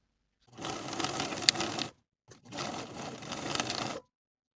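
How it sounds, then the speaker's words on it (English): A sewing machine edge-stitches the short ends of a welt onto the front bodice of a lined women's coat, running in two close, steady bursts with a brief pause between them and no talk. "I'm going to edge stitch the short ends of the welt in place to the bodice"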